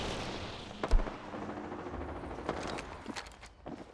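Gunfire in the Apex Legends battle royale game, a faint, distant crackle of shots with one sharper thump near the start, scattered under ambient game noise and movement.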